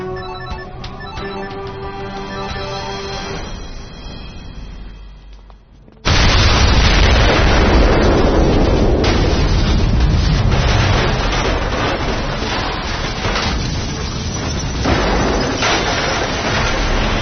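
Bomb explosions in a Telugu thriller action film: a tonal ringing first, then a sudden massive boom at about six seconds that rolls into a long, loud, rumbling roar with scattered blasts.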